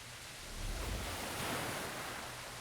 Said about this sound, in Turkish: Bak dalgalar geliyor.